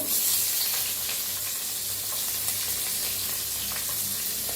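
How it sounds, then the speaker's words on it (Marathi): Cumin seeds sizzle in hot oil, a steady, fairly loud hiss that fills the whole stretch with no talking over it. "गरम झाले त्याच्यात टाकूया एक चमचा जिरं"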